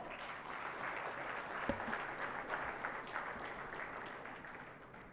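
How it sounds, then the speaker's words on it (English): An audience applauds at an MOU unveiling ceremony during a maritime week event, steady clapping filling the hall for several seconds at moderate loudness, with no speech over it. "please give me a round of applause."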